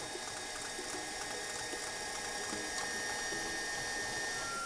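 A stand mixer whips a mixture while syrup is poured into the bowl, giving a steady, continuous whirring and faint mechanical rattle throughout, fairly quiet and with no talking.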